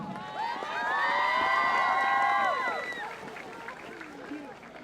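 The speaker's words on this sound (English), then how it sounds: "Please give her a round of applause." A crowd in the stands at a high school football game, Colonia vs. New Brunswick, cheers and shouts during homecoming honors. The noise swells loudly for a few seconds, then fades to a lower hubbub.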